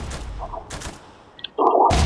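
Bursts of video game gunfire crackle in short volleys, with a brief beep, then a loud sustained rattle of shots near the end.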